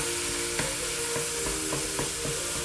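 A wooden spoon breaks up meat browning in a hot pan, steady sizzling under a series of soft, regular scraping knocks, close and continuous.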